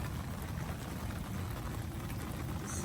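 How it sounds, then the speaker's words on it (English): Steady rain falls outdoors in a garden where trees are being potted, an even, hissing wash of drops at low level with no talking. "And the rain has started again."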